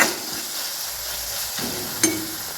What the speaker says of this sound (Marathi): पाहू शकता आपला मस्त असा मसाला भाजून झालेला आहे